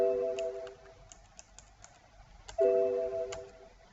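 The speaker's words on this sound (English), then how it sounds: "Try and type something here." Sparse clicks of typing on a computer keyboard during data entry, faint and close, with short bursts of electronic tones in a quiet room.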